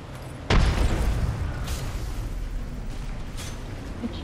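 Frag grenade explosion in Apex Legends: one sudden heavy boom with a deep low-end thump, then a rumbling tail of debris and gunfire-like crackle that slowly fades, close and loud.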